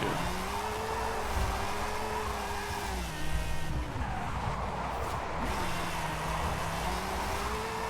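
A 2002 Mazda RX-7 Spirit R Type-A drifts in Forza Horizon 5, with a steady engine drone and long wavering tire squeals that run continuously and close up throughout.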